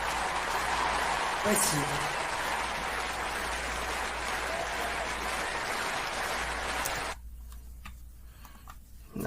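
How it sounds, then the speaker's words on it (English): Audience applause after a live performance: dense, steady clapping that cuts off abruptly near the end, with a voice speaking briefly. "they deserve that applause"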